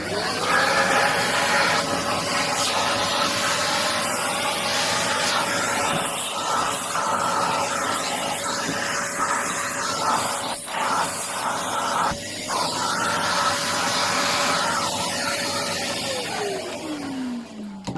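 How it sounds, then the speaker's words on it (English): A vacuum cleaner runs continuously close by, hoovering up MDF dust with a steady roar and tonal whine, its pitch dropping as it winds down at the end. "And what I will do, I'll just hoover that."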